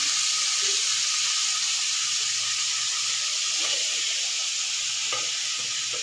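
Vegetables frying in oil with panch phoron, salt and green chilli, a continuous bright sizzle with soft scraping stirs now and then, close up and steady, without speech.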